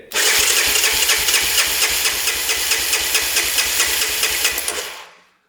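An engine on a Honda three-wheeler from a hoarder's barn being cranked over by the starter, a loud, fast, rhythmic chugging that runs for about five seconds and then cuts off abruptly.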